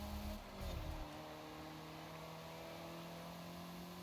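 Car engine in the racing video game Forza Horizon 5 gives a short, louder rev burst at the start, then settles into a steady, even engine drone with no talk.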